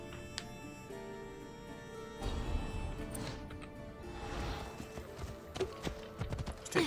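A horse's hooves clip-clop steadily in the video game Assassin's Creed Odyssey, the trotting beats clear against a low background bed and growing a little louder toward the end.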